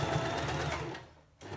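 A sewing machine stitches a pleated fabric face covering in a short, loud, close burst that stops briefly and then starts again.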